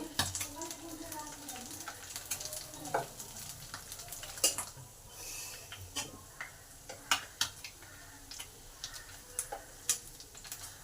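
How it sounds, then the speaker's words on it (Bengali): Pabda fish fry in oil in a pan, a low steady sizzle broken by frequent sharp pops and spits of hot oil, fairly close and moderately quiet. "মাছগুলো আমার দুপিটি লাল লাল করে ভাজা হয়ে গেছে"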